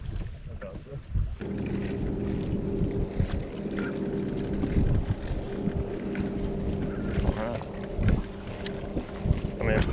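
A fishing boat's outboard motor runs on Lake Vermilion, a steady low drone heard up close with wind buffeting the microphone and water noise, while people talk intermittently over it.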